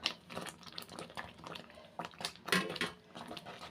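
A spoon scrapes and clinks in a pan while semolina is stirred together with ghee-fried coconut. The scraping is soft, irregular and close, with gentle rustling and no voices.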